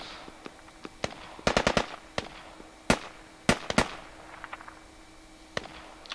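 Sniper rifle fire in the military shooter game Squad: a dozen or so sharp gunshot cracks, some in quick bursts and others spaced apart, loud and close over a faint background.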